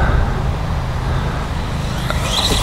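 A 1:10 scale VRX RH1045 Octane XL RC truck runs at full throttle outdoors in a backyard, a loud, steady broadband motor and tire roar with no pause and no speech.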